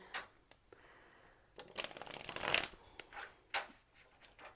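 Twin Flame Journey oracle cards are shuffled by hand in a quiet room, with a run of soft riffling bursts and sharper card snaps close by.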